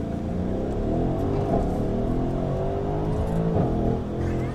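A sports car engine drones and revs steadily while drifting, with a sustained, rising and falling engine tone, close and loud, with no talking.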